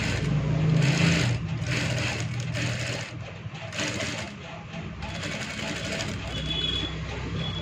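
A sewing machine stitches a shirt collar in a steady mechanical whir with a few brief pauses and changes in speed, running close and loud while a person talks over it.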